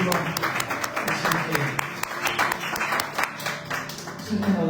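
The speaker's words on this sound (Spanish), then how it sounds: "Primeramente un aplauso al Señor" Church congregation applauding with steady, dense clapping throughout, a room full of hands at moderate distance with no pauses.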